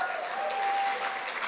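An audience at an awards ceremony fills the room with dense, even applause that holds steady throughout, with no voices standing out.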